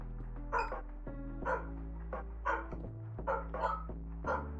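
A pet dog, just let out of her indoor kennel, barks repeatedly in an excited, agitated run of sharp barks at close range, several bursts spaced about a second apart over steady background sound.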